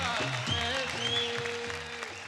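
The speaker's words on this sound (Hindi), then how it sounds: "जोरदार तालियां हो जाए।" A television dance show audience applauds in a steady burst under loud music and a voice, the clapping dense and continuous throughout.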